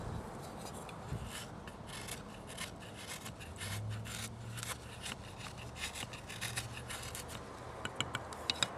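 A CRKT M60 fixed blade knife shaves tinder curls from a square stick of wood in short, repeated rasping strokes, close up and fairly quiet.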